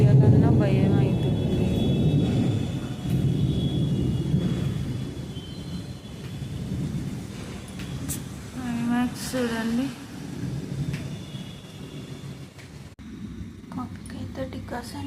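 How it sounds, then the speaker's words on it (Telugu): A thunderstorm with rain: a deep, rolling rumble of thunder that is loudest at the start and slowly fades, while a person talks over it. "వర్షం పడుతూనే ఉంది, ఉరుము మెరుపులు."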